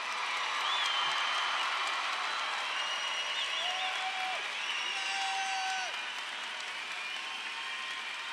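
Sustained applause from a large crowd at a 2022 Eldorado High School graduation ceremony, a steady wash of clapping with a few faint whistles and whoops mixed in.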